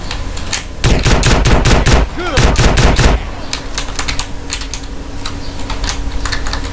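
Rapid bursts of gunfire in GTA San Andreas during a gang shootout, loud and dense volleys for a few seconds, then quieter scattered shots over a steady game background.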